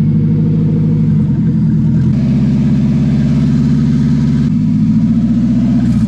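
A Nissan 300ZX engine runs with its exhaust removed, loud and raw, with a throbbing low rumble that steps up and down in pitch as it is revved, with no talk.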